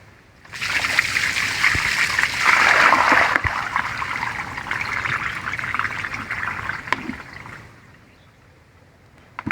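Water from a container where cuttings had soaked for several days pours out in a steady splashing trickle, loud and close, tapering off near the end with no talk over it.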